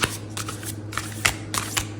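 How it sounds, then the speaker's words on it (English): A deck of thick-stock tarot cards is shuffled by hand, producing a short series of crisp, close riffling snaps and flicks in an uneven rhythm over a faint steady hum, with no voices. "This is really thick stock. It's hard to shuffle."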